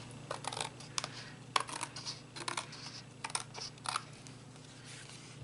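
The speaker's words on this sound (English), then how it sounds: "I am going to use my trusty Fiskar very sharp scissors to trim off any excess" Sharp Fiskars scissors snip through paper in a series of short, crisp cuts, close and quiet, spaced unevenly over a low steady room hum, with no talking.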